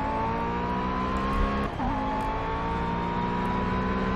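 A McLaren race car in Project CARS drones with a steady high engine whine, dips briefly through a gear change and then climbs again, loud and close with no talking.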